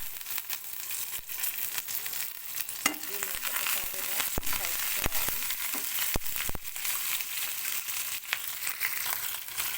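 Peanuts, chana dal, urad dal and curry leaves crackling in hot oil as a tempering for tamarind pulihora, a soft continuous sizzle broken by sharp pops and stirring clatter.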